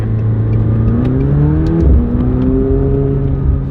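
Rolls Royce accelerating on a freeway, a steady engine drone heard from inside the car, its pitch climbing, dipping at a gear change, then climbing again over road noise, fairly loud with no speech.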